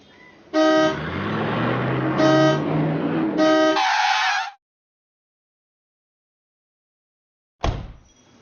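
Three loud car horn blasts in quick succession, each a bright, steady honk about a second long, followed by a shorter burst over road noise, then silence and a brief final whoosh.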